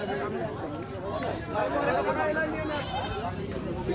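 Goats bleat at a crowded livestock market in Bangladesh, wavering cries mixed into dense crowd chatter and close conversation.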